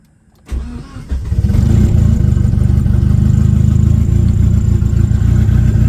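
A 1990 Mitsubishi Eclipse GSX engine cranks briefly, catches and settles into a steady, loud, rumbling idle that holds evenly to the end, with no voices.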